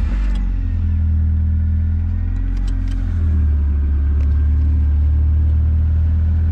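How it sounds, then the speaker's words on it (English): A car engine on a cheap modified ricer build runs at a steady idle, giving a loud, continuous low rumble with no talking over it. "And the car is running."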